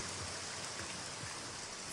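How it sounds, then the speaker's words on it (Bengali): Light drizzle falls outside as a steady, soft hiss of fine rain with no clear separate drops, ending in a brief sharp thump. "বাইরে এখনো গুঁড়ি গুঁড়ি বৃষ্টি পড়ছে"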